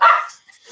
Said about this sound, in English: the sun's coming, so the dog's barking a bit